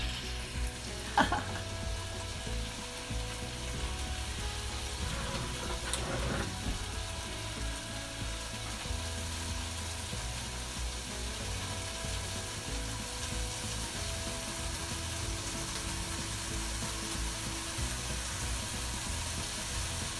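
Bacon frying in a pan for an egg breakfast sandwich, a steady, fairly quiet sizzle with a few clicks and scrapes early on, carrying on unattended without talk.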